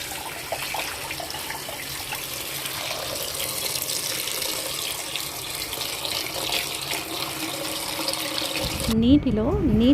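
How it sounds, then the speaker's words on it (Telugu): Tap water runs steadily into a kitchen sink while lentils are rinsed for a Telugu chukkakura pappu with sorrel leaves, a continuous splashing wash that ends abruptly near the close, where brief talk comes in. "నీటిలో నీట్గా కడిగి పప్పులో కడుక్కోవాలి."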